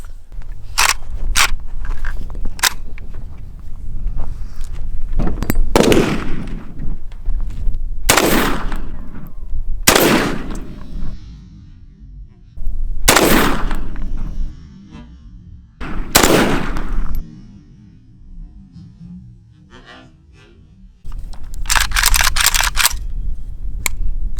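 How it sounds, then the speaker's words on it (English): Shots from a Yugo M70 AB2 AKMS rifle at a range, loud sharp single reports spaced unevenly over about twenty seconds, some close together, with a final cluster of rapid shots near the end. "All right, shooting the Yugo M70 AB2 AKMS."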